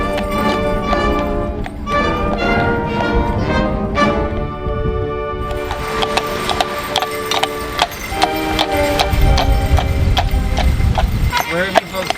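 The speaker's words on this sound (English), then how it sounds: "we're about to take a horse and carriage, which is another wonderful perspective of this" Hooves of a horse pulling a carriage clip-clop steadily at a night light festival in Owen Sound, Ontario, mixed with music and people talking nearby.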